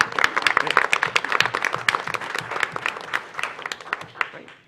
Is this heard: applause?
yes